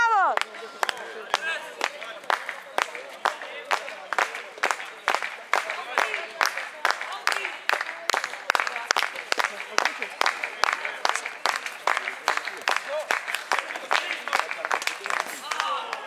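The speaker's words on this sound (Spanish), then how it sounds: "Y ahora vuelven a aplaudir." Crowd clapping in unison at a youth (cadet) basketball game, a fast steady rhythm of sharp claps from many people, loud and sustained throughout.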